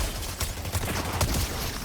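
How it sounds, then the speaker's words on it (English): Rapid bursts of SMG gunfire in a Fortnite match, with a steady crackle and short louder peaks over background game noise, no talking. "I just got him with the SMG."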